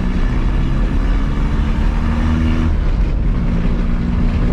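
A VW Gol Turbo engine drones loud and steady with a low rumble, its pitch shifting partway through as it revs under acceleration, with no voices over it.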